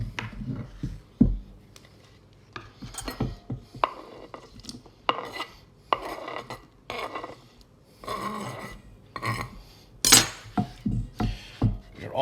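Finely chopped cucumber being scraped and added to Greek yogurt in a bowl, a series of scattered clinks and soft knocks of utensils against the dish, close and fairly quiet with pauses between.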